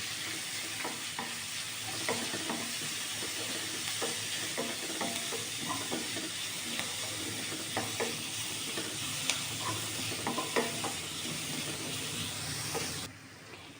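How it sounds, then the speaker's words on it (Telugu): Ginger garlic paste fries in oil in a pan with a dense, even sizzle and hiss, dotted with small crackles and occasional stirring taps, close and steady until it cuts off near the end, no talking. "ఇప్పుడు 1 స్పూన్ అల్లం వెల్లుల్లి పేస్ట్ కూడా వేసుకొని పచ్చివాసన పోయేంత వరకు వేయించుకోవాలి"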